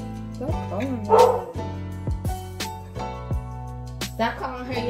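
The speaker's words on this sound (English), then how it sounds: "Why she barking?" A dog gives several short yips and barks in a home kitchen while music plays throughout, with a person's voice mixed in.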